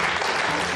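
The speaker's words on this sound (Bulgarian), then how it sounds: "Силни, силни аплодисменти." Studio audience applause on a Bulgarian TV game show, Deal or No Deal, a short dense burst of clapping, loud and unbroken.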